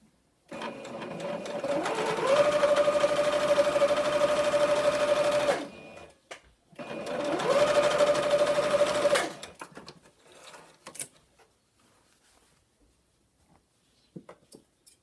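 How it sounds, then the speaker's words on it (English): A sewing machine stitching along the top raw edge of a cloth mask, running loud and steady in two long bursts separated by a brief pause, then stopping with a few faint clicks and handling sounds afterward. "we are going to sew along the top raw edge to join these pieces together"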